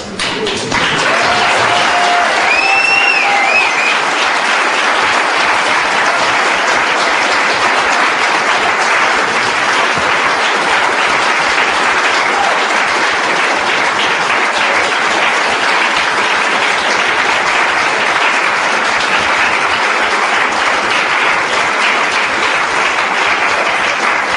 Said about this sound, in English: Is the applause waning?